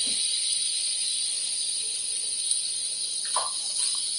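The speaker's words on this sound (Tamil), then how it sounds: "அந்த அரிசியை எடுத்து நல்லா கொஞ்சம் செவக்கிற அளவுக்கு வறுத்து விடணும்" Rice roasts in hot ghee in a pan with a steady, bright sizzling hiss, close and fairly loud, broken near the end by a brief scrape or clatter.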